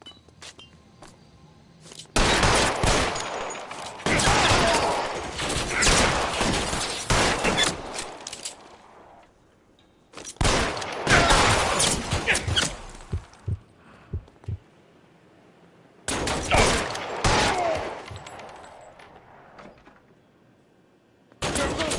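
Gunfire in the video game L.A. Noire comes in three loud, dense bursts of rapid shots, each lasting several seconds and separated by quieter gaps.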